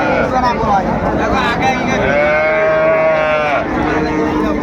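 Friesian and Sahiwal cattle at a busy livestock market in Dinajpur, with a drawn-out moo rising above dense crowd chatter and people talking nearby.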